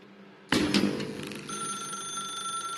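A telephone in The Stanley Parable video game starts ringing with a loud, sudden metallic bell burst, then settles into a sustained bright trilling ring over a soft room hum.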